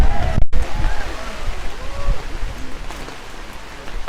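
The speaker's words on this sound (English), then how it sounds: "The rain is really welcoming us today" Rain falls on an outdoor pro-Palestine rally during a National Day of Mourning gathering, a soft steady patter under crowd noise and faint distant voices.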